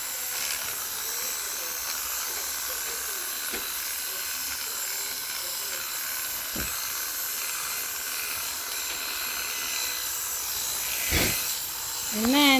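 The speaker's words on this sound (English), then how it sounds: "It's hard to record and shave at the same time." Electric clippers buzz steadily while shaving a show goat's coat, a close, continuous whine with a few brief knocks and a louder swell near the end, a voice talking faintly at times.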